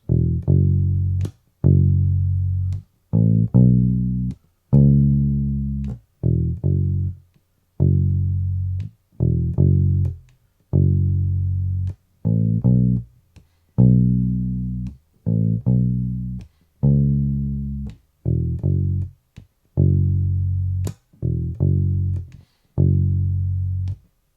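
A low, repeating blues riff from a song, played on a bass or guitar, each phrase led into by a short pickup note before landing on the root, with brief gaps between phrases.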